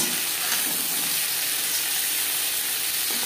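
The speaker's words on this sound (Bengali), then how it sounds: "চিংড়ি মাছ এখানে আমি হালকা করে ভেজে নেব" Prawns fry lightly in hot oil with a steady, close hissing sizzle that holds at an even level throughout, with no talk over it.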